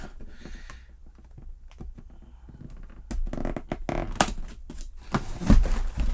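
Small LEGO dot pieces rattle inside a taped box from the World Map set 31203, quiet shuffling at first and then louder, denser clattering shakes in quick bursts with no talking.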